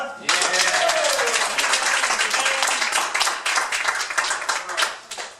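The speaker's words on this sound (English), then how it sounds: "Can you clap louder?" A crowd claps steadily and loudly for several seconds, dense overlapping applause with voices mixed underneath, tapering slightly at the end.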